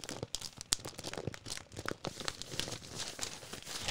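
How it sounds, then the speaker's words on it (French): Newspaper paper crinkles and rustles up close in quick, irregular crackles and crunches, with brief tearing-like bursts and no talking. "ce bruit magique du papier"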